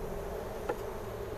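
Honey bees drone steadily around an open hive during a hive inspection, with bridge comb being removed; a quiet, continuous close buzz with one brief faint click partway through.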